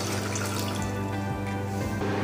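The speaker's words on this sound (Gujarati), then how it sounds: "તેમાં 3-4 ગ્લાસ જેટલું પાણી લઈશું." Water from a glass is poured into a cooking pot to boil spinach leaves, making a continuous splashing rush.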